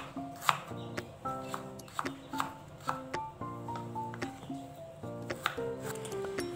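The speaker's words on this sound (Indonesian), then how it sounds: "Ini jahe yang sudah saya kupas, saya iris-iris tipis-tipis" Peeled ginger is sliced thinly with a knife on a cutting board, a quick series of sharp, crisp taps in a steady rhythm, close and clear with no talking.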